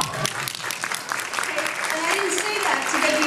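Audience applause breaks out at a public meeting, a steady burst of many hands clapping close by and filling the whole moment, with a voice speaking over it.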